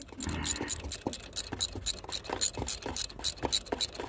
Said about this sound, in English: So I'm going to ratchet this side.